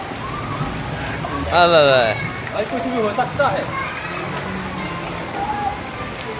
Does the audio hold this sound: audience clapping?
no